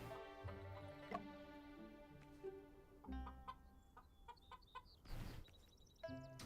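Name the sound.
free-range chickens clucking in Murders on the Yangtze River video game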